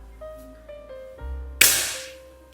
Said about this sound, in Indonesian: Lagi kita coba tembak.